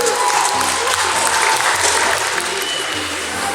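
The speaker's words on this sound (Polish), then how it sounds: "Ludzie klaszczą, to tutaj normalne." A crowd at a convention claps steadily, a dense, continuous wash of applause that stays loud and even throughout, with faint voices mixed into the noise.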